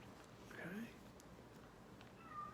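A cat meows a couple of times at a distance, faint under a low background hum.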